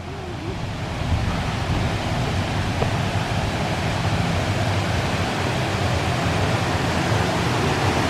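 Steady broadband rush of a small waterfall in the Forest of Dean, constant and fairly close, with no voices.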